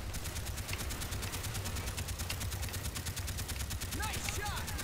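Gunfire in Call of Duty Black Ops: a sustained burst of rapid, evenly spaced automatic shots rattles on without a break, loud and close, with a few brief whooshing sounds near the end.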